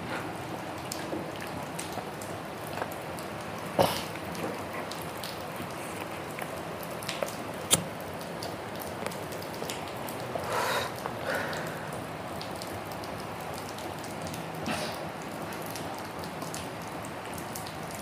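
Rain falls steadily outdoors, a soft continuous patter with scattered louder drips and occasional sharper drops, fairly quiet and even throughout with no talking.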